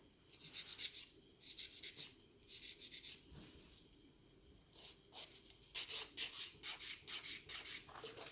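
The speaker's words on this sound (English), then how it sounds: "So I'm smoothing the nail all over, and I can swap again to my straight file." A straight nail file rubs over coffin-shaped gel nails in quick, soft, rhythmic strokes, close and faint, with short pauses between sets of strokes.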